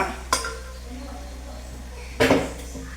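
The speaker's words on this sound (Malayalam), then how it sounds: "എന്നിട്ട് ഇങ്ങനെ ചെറുങ്ങനെ ഇളക്കിക്കൊണ്ടിരിക്കാം" Two sharp metallic clinks and scrapes of a utensil against a metal pot of chicken parts, spaced apart, over a low steady hum.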